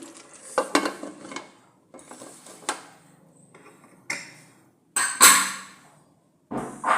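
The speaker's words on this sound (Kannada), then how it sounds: "ನಾನೀಗ ಕುಕ್ಕರ್ನ ಮುಚ್ತಾ ಇದ್ದೀನಿ" A pressure cooker lid is closed over sprouted moong palya: several sharp, close metallic clanks and scrapes, separated by short quiet gaps, with a final louder clatter.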